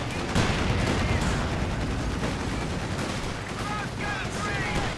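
Tank gun fire in the World War II strategy game Company of Heroes 2, with dense, continuous battle noise of shots and impacts that holds steady and loud for the whole stretch.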